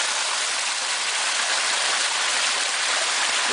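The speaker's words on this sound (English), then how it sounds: "there is running water on this side as well" Running water rushes down cascading waterfalls, a loud, steady broadband roar of splashing flow with no break, close to the listener.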